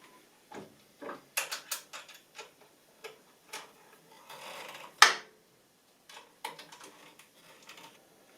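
The fence of an Incra TS-LS table saw positioner is locked down with a series of sharp, close mechanical clicks and ticks, sparse and irregular, plus a louder metallic snap midway and a brief sliding rasp.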